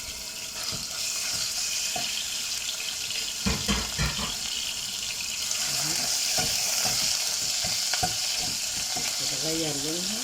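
Minced meat frying in about three spoonfuls of hot oil for a vegetable and mince dish, a continuous close hiss and sizzle with stirring clatters and scrapes, and a brief voice near the end.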